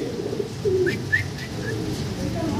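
Fancy pigeons, including Blue Bar and Spanish pairs at a pigeon sale, give a few low, throaty coos over a steady background murmur, with soft higher chirps in between.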